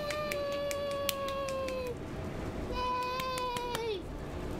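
Two drawn-out cat meows in the video game Stray, each a long sliding cry with a gap between them, loud and clear over a faint background hum.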